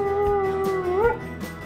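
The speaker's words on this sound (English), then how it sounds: "Ruger, this is an award-winning dog. He's a champion howler." Ruger, a champion howler dog, lets out a single sustained howl that rises in pitch near the end, fairly close and loud with no talk over it.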